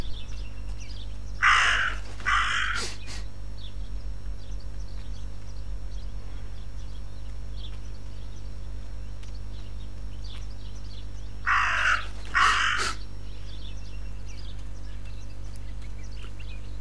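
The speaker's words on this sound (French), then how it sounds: "Je trouve le corbeau." A crow in the video game Martha is Dead gives two bursts of harsh caws about ten seconds apart, clear and fairly close over a steady low background hum.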